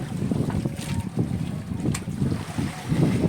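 Steady strong wind roaring and buffeting a microphone outdoors, a continuous low rumble with gusty swells and no voices.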